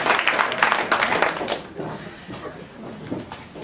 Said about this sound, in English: So a round of applause for Sunnyside Nursery as well.